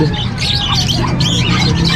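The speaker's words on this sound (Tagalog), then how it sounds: "Daming ibon dito sa Bukawe, no?" Many birds squawk and screech together at an animal market in Bocaue, Bulacan, a dense, continuous chorus of harsh calls close by, with faint voices in the busy background.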